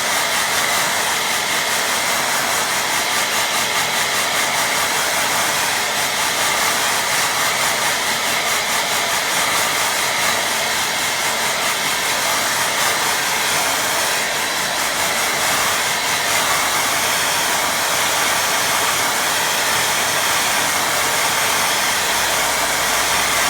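A hair dryer blows steadily and loudly over a watercolour painting of a stream, a constant broadband whoosh with no pauses and no voices.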